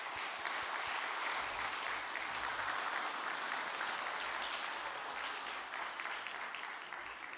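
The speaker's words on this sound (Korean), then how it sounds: "네, 박수." A congregation claps steadily and densely through the whole stretch at a church ordination and retirement thanksgiving service, a loud, even wash of applause that eases slightly toward the end.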